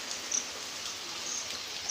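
Floodwater runs through a village during heavy monsoon rain, a constant soft rushing hiss of water flowing steadily without breaks, fairly quiet and even.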